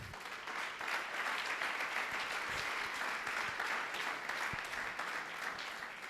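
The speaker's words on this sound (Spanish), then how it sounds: "Dale un aplauso a Cristo" A church congregation applauds in a sustained, even patter of many hands, fairly soft and distant, with no speech over it.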